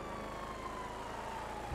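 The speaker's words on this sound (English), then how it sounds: "I think it's their sirens that get stuck." A video game police siren wails steadily over a low engine rumble, its tone sliding slowly downward over a couple of seconds, fairly distant and quiet.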